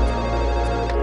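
A telephone rings loudly and steadily, a sustained electronic ringtone with a dense, even buzz and no voices.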